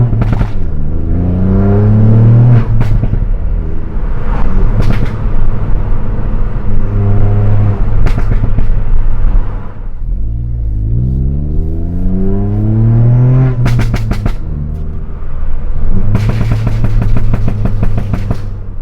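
A Ford Fiesta MK8.5 ST fitted with an EBC big brake kit drives and accelerates, its engine note climbing through the gears in repeated pulls, with sharp shift pops between runs, loud and close.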